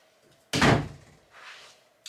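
A door swings shut with one solid thud close by in a home, followed by faint rustling and a small knock at the end.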